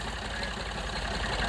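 A Massey 375 tractor engine idles with a steady low rumble and fine knocking pulses, constant and moderately distant for a short stretch.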